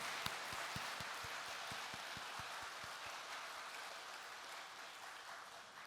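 A church congregation applauds in a broad, steady wash of clapping, with faint low thumps keeping a regular beat underneath, all somewhat distant and quiet.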